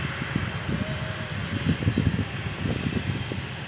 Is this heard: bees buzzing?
no